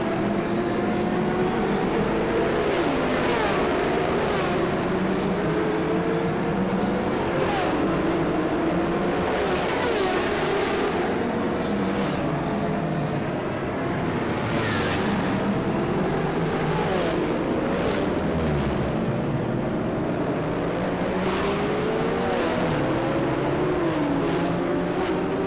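Motorbikes lap a race track at a JK Tyre racing event, their engines forming a steady, loud, continuous roar as bikes sweep past one after another, rising and falling in pitch with no pause.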